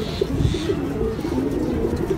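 Pigeons coo steadily at a pigeon farm run by a father and son in Mirerbagh, with low repeated throaty calls close by, continuous across the whole stretch, and no talking.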